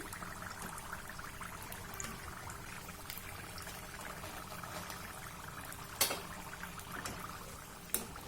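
Onion samosas deep frying in hot oil for a second time, a faint continuous bubbling hiss close by, with a couple of brief sharp taps partway through and no talking.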